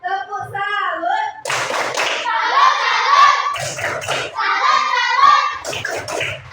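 Children in an Islamic studies classroom perform the 'tepuk salut' clapping chant: rhythmic group clapping mixed with young voices chanting, loud and close, following a teacher's spoken count-in.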